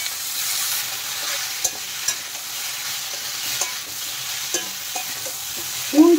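Ridge gourd stir-fried in a pan with chopped tomato, salt and spices, a steady soft sizzle with scraping spatula clicks and stirring knocks spaced throughout, ending in a louder clatter.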